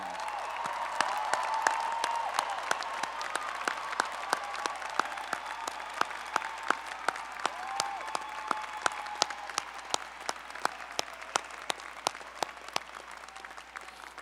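Applause from the audience at the UC Law San Francisco commencement, sustained and even, with crisp individual claps standing out from a steady wash across a large hall.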